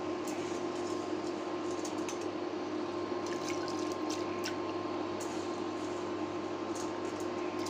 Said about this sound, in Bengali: মুগ ডাল তেলে ধুয়ে নিলাম পরিষ্কার করে, এখন সিদ্ধ দিয়ে দিচ্ছি।